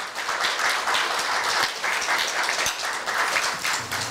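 Steady applause fills a hall at a university staff retirement ceremony, many hands clapping at an even, moderate level throughout with no voices over it.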